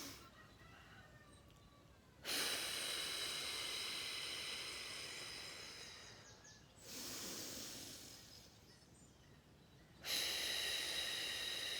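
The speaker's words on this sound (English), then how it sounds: "Breathing in." Deep breathing exercise in a calm guided session, with two long, strong breaths in and out that swell and fade around a brief quieter pause, close and clear, with no talking.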